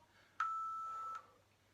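A home workout timer gives a single steady electronic beep lasting under a second, clear and alone against quiet room tone.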